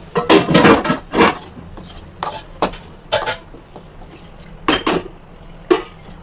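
A ground urad dal mixture for minapappu pachadi is tipped into a pan of curry-leaf tempering, giving about eight loud, close scraping clanks of a spoon against the metal pan in an uneven rhythm, with no voices.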